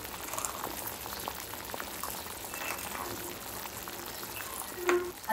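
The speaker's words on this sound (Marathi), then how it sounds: "आता आपल्या पाकाला मस्त उकळी आलेली आहे." Sugar syrup for rava gulab jamun boils steadily in a pan, a continuous dense bubbling and fizzing with a brief louder pop near the end, close and alone with no talk.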